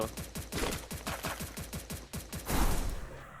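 Rapid automatic gunfire in the mobile battle royale game Free Fire, a steady rattling stream of shots with a heavier burst near the end, loud and continuous with no voices.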